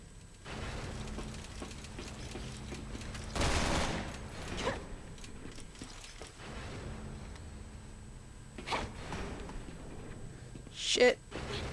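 Gunfire in the video game Resident Evil 6, rapid bursts of shots at moderate loudness under steady game ambience, with one louder blast partway through and a brief sharp sound near the end.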